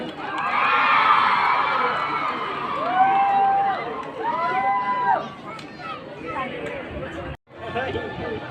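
A crowd of children and spectators cheers and shouts for the home team at a district-level inter-school athletic meet, loud sustained roaring with a voice over a loudspeaker, fading toward the end.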